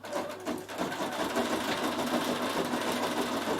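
A Bernina 7 Series embroidery machine runs steadily through a satin stitch on a name design, its needle hammering in a fast, even mechanical whir that stays loud and continuous with no talking.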